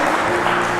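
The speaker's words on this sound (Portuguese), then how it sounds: "Você pode dar uma salva de palmas ao Senhor?" A church congregation claps for the Lord in a brief, loud burst of dense hand clapping, with hum and voices faintly mixed underneath.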